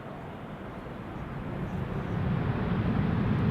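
A KLM airliner arriving from Madrid at Schiphol Airport gives a distant, broad jet rumble that slowly builds louder as it comes closer overhead.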